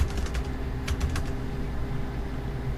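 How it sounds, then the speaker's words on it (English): Typing an address on a computer keyboard: a quick run of light key clicks, a tighter cluster of taps midway, over steady room hum with no talk. "I just type it out."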